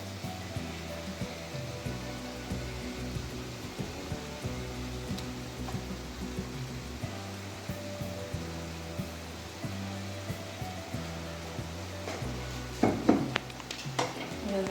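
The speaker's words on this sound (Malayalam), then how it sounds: "ഇളക്കി കൊടുക്കുക." Ground roasted coconut paste being stirred into a prawn curry in a pan, a steady soft scraping and clinking of a spoon against metal over a low simmer, with a louder clatter near the end.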